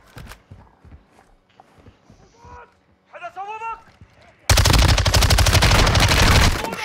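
Gunfire in a Call of Duty mission: after scattered thuds, footsteps and voices, a sudden loud sustained burst of rapid automatic shots takes over and continues to the end.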